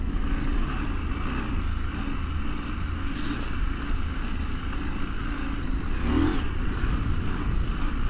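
A KTM 890 Adventure R motorcycle rides wet, muddy and sandy trails, its engine giving a steady, continuous drone close by with a slight swell near the end, no voices heard.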